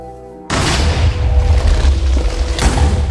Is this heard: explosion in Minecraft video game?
yes